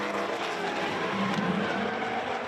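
Drift cars race and skid at a South Australian state series drifting event, a dense continuous roar of engines and squealing tires that stays loud and steady throughout.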